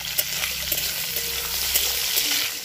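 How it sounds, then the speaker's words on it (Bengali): Potatoes crackle and sizzle loudly in hot oil, a dense continuous frying hiss close by with occasional light stirring taps and pops, no one speaking. "তার জন্য আগে আলুটাকে ভালো করে ভেজে নেব"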